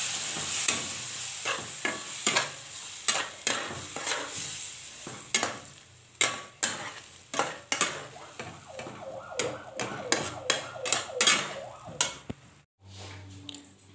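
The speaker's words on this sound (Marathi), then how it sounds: "आता आपण सगळं एकजीव करू" Semolina sheera with milk and jaggery is stirred in a pan, making repeated close scraping strokes in an uneven rhythm over a soft sizzle.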